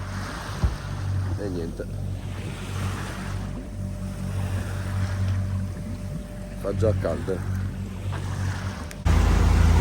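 A sailboat under way on a calm sea off Kassiopi, Greece, giving a steady low engine-like rumble with water wash and wind, while a person talks briefly over it; the rumble jumps louder near the end.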